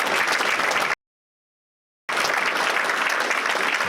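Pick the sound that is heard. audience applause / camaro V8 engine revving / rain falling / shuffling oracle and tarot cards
audience applause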